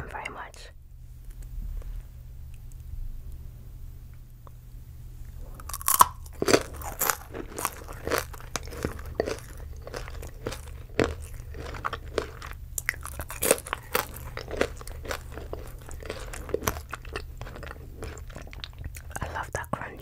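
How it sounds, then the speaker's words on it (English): Close, crisp crunching bites and chewing on cake and Oreo-style treats, recorded intimately as a run of irregular crackly snaps over a quiet background, with soft whispered speech in places. "I love that crunch."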